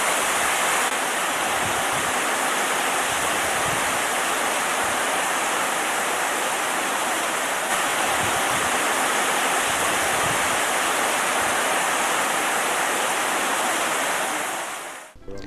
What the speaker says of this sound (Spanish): Y ahora podemos apreciar el estanque con los surtidores de agua en funcionamiento.